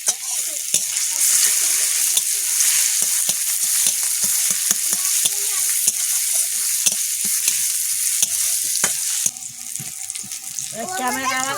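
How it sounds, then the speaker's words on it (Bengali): Garlic fries in hot oil with a steady loud sizzle and frequent stirring scrapes up close; near the end the sizzle drops and a brief watery sound comes in. "এই রসুনগুলো লাল লাল হয়ে গেছে তেল ছেড়ে দিয়েছে"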